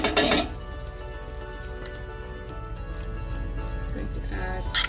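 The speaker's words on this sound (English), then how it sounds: "in the same wok I'm going to add 2 teaspoons of oil to start sauteing our shrimp" Two teaspoons of oil sizzling in a wok before shrimp are sautéed, a steady close hiss with brief louder clattering bursts at the start and end.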